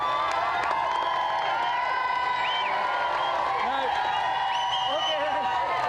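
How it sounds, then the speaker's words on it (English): A television game show studio audience applauds and cheers continuously, with scattered whoops over steady clapping throughout. "Round of applause for David"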